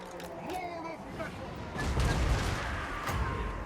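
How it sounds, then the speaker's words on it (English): Artillery duel in the fantasy strategy game Total War: Warhammer 2, with booming cannon fire and rumbling impacts swelling louder in the second half over a busy battle din, with speech-like murmur mixed in. "I don't think you're going to win that artillery duel there"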